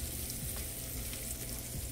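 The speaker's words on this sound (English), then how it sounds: "Just gonna cook these onions down a little bit" Onions cooking down in a pan give a steady, close, crackling sizzle with a busy hiss that carries on evenly and alone throughout.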